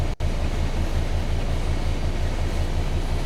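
A freight train runs steadily in what may be a train simulator, producing a loud continuous rumble with a low rolling drone, briefly cutting out at the start before resuming unbroken.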